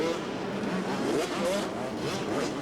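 Women's motocross bikes racing on a 1995 track, a dense, continuous engine drone with wavering revs from several nearby machines, loud and steady throughout the short stretch.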